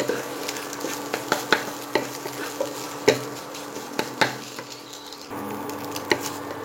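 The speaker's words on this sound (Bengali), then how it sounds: "ভালোভাবে ডিমটাকে ভেজে আমি তুলে নেব।" Egg frying in oil in a pan for street-style egg chowmein, a steady close sizzle broken by frequent sharp clicks and pops of a spatula scraping and stirring.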